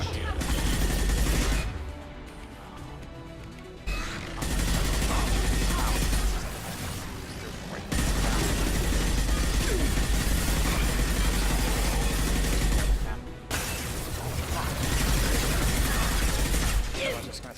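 Enemy gunfire in the video game Mass Effect 2: dense, loud volleys of rapid shots roar almost continuously, broken by two short lulls, with the weapons' clatter layered thickly over one another.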